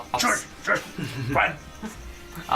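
A person imitates a dog with a string of short, yappy barks and whimpering yips at close range, several bursts in quick succession during a tabletop roleplaying session.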